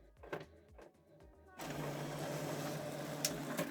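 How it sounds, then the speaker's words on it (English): An HP Deskjet printer runs a page: several faint mechanical clicks and whirs come first, then a sustained louder feed-and-print whir with a few sharp ticks near the end. "you wait for the printer to print out the job"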